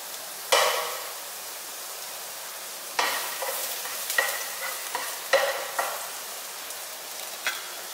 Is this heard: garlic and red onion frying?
yes